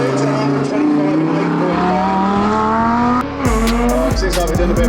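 Sports car with a 5.2 litre naturally aspirated V10 of 640 bhp launching hard, engine rising loudly through revs close by, then a gear change and renewed roar with possible tyre squeal, voices audible around it.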